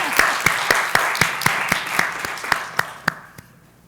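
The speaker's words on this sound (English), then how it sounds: "I think that deserves a round of applause." A small audience at a clinical conference session claps in an even, rhythmic run of about a dozen sharp hand claps that fade out after a few seconds, with no talking.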